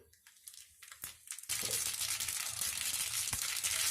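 A spoonful of mustard seeds hits about three tablespoons of hot oil in a pan and bursts into a loud, steady crackling sizzle that runs to the end, after a few soft, scattered clicks.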